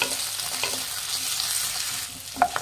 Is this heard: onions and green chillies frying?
yes